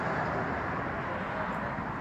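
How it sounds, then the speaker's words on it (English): Steady broadband road roar of cars whipping past on a parkway in Fort Walton, heard from inside a vehicle with the windows down, continuous and fairly loud throughout with no distinct gaps between passes. "you can hear the cars whipping by"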